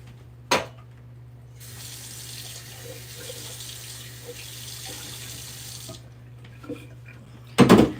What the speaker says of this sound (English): I'm going to rinse out these cans really quick